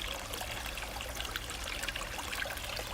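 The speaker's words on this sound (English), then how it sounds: "Oh, look at this water." A cold, clear stream trickles and gurgles close by in a continuous, bright splashing wash that stays steady with no voices over it.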